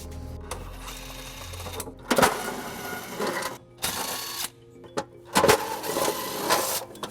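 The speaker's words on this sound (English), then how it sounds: "we'll remove those using a 10mm socket" A tool with a 10 mm socket spins out heat shield screws under a Subaru Forester, giving repeated whirring ratchet bursts of a few seconds each with short pauses between them, close and fairly loud.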